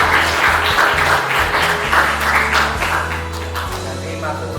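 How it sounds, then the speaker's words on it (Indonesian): A class of schoolchildren at a coding lesson claps together. The applause is steady and dense for several seconds, then gradually thins and fades. "Tepuk tangan untuk kita semuanya."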